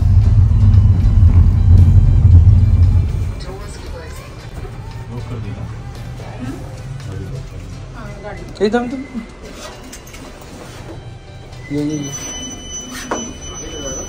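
A car engine rumbles loud and low for the first few seconds while parking at a heritage village in Dubai, then cuts out as people's voices carry on over faint background noise.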